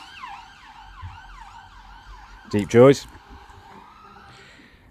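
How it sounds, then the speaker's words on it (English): An ambulance siren wails in a repeating rising and falling pattern as it passes on a street, sweeping closer with a loud peak and then fading. Someone speaks briefly under it. "as the ambulance goes past."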